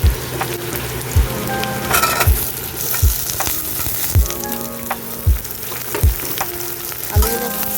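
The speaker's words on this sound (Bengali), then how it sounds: "আলুগুলো ভালো করে ভেজে নিতে হবে লাল করে।" Cut potatoes fry in oil with onion in a pan, giving a constant close sizzle with a rhythmic scrape of the spatula roughly every second.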